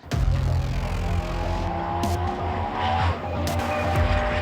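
The high-revving V10 race engine of a Porsche Carrera GT supercar roars up close, with rough, tire-squeal-like texture throughout the short burst.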